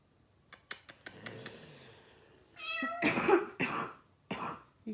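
Meow-like calls, attributed to a house cat being called out of a cupboard: a few faint clicks, then a louder cluster of drawn-out, wavering meows near the end, fairly close and with no talking.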